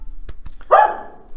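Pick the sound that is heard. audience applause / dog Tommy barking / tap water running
dog Tommy barking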